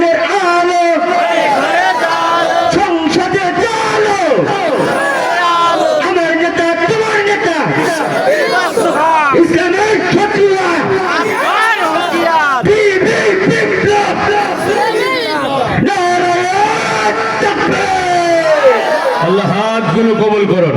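A large gathering at a Bangla religious sermon by a preacher from Kushtia chants the takbir, many voices shouting together in loud, overlapping bursts that fill the whole stretch with dense crowd hubbub and yells.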